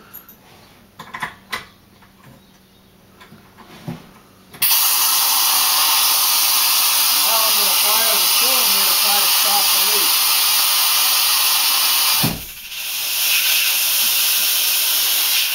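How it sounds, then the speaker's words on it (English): Pressurized air hisses loudly and steadily from a blowout-preventer cap rig simulating leaking oil, bursting on after some quiet clicks and handling noise, holding for about eight seconds, dipping briefly, then resuming. "I'm actually going to hook up pressure to simulate leaking oil out the bottom of this thing"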